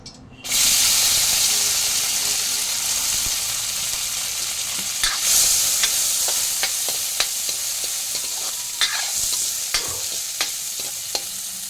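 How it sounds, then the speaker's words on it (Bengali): Cashews and raisins fry in hot ghee for semolina payesh, a steady bright sizzle broken by repeated clicks and scrapes of a spoon stirring in the pan, with no talking. "প্রথমে ঘি দিয়ে দিলাম, ঘিয়ের মধ্যে আমি একটু কাজু কিশমিশটা ভেজে নেব।"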